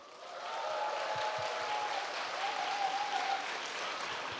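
An audience at a business seminar claps together in sustained applause, rising quickly and holding a dense, even roar of hands for several seconds.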